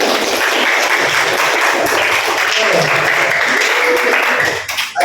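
Classroom students give loud applause for a classmate, steady clapping that fades out near the end as a voice begins.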